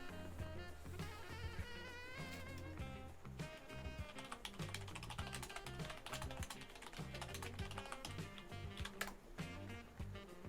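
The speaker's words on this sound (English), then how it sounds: "You'll probably hear me typing." Typing on a laptop keyboard during a Transport Fever 2 game session, a brisk run of close key clicks running for about ten seconds over constant game music.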